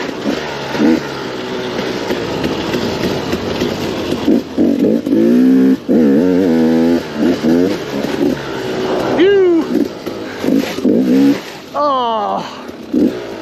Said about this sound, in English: Oh, dang, my bike is making some noises.